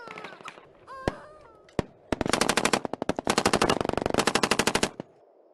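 Close, loud gunfire at night: a few isolated cracks open, then long rapid bursts of automatic fire hammer on for several seconds before cutting off.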